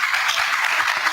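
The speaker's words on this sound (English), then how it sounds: "Thank you for the applause." A conference keynote audience claps briefly, a dense patter of many hands at moderate loudness.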